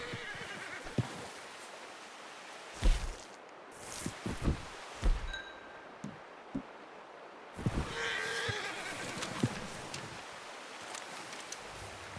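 A horse in Red Dead Redemption 2 whinnies and snorts amid scattered hoof thuds and rustling outdoors, loud close bursts separated by quieter stretches, with no speech.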